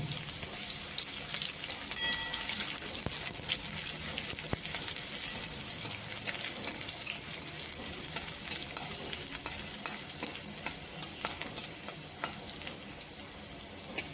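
Crushed garlic cloves and black cumin fry in hot oil with a steady, dense sizzle, while a utensil scrapes and stirs through the pan at close range.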